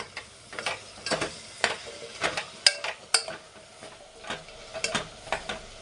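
Chicken legs fry in a pan with mint and curd, with a soft sizzle broken by repeated scraping and tapping of a utensil stirring against the pan, close and irregular.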